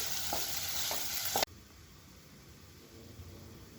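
Vegetable kachumber being stirred in a hot pan gives a steady, close sizzling hiss with a few soft scraping strokes, cutting off abruptly after about a second and a half and leaving quiet room tone.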